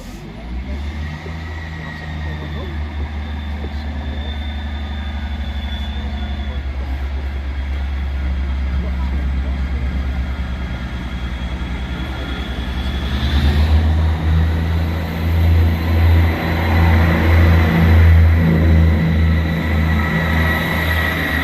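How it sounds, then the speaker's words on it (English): A vehicle engine near a level crossing on a route from Dundee Law to Carnoustie, idling with a steady low rumble and then rising louder as it pulls away, the sound swelling in the second half. "Try and get the noise of the engine."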